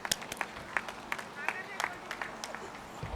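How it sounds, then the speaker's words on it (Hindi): A small audience claps to welcome a poet on stage: faint, scattered, irregular individual claps rather than a full ovation, with quiet voices underneath. "तालियों के साथ स्वागत कीजिए"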